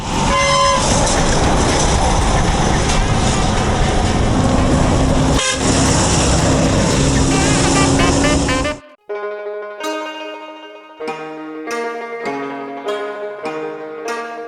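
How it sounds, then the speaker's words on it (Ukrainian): A dense roar of traffic noise in China gives way to a series of loud vehicle horn blasts at varied pitches, honking repeatedly in quick succession. "водії, що сигналять без причини"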